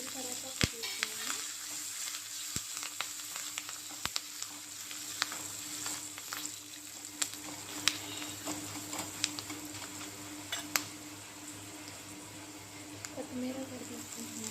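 Asafoetida and curry leaves tempering in hot oil for Nadu-style radish sambar, a steady close sizzle and crackle with scattered sharp pops and occasional stirring, continuous throughout.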